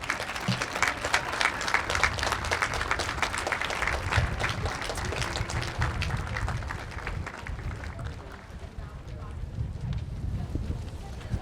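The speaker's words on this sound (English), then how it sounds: "All right, round of applause for C6." Steady applause from an outdoor crowd at a school moving-on ceremony, dense clapping that carries on throughout with voices and wind noise mixed in.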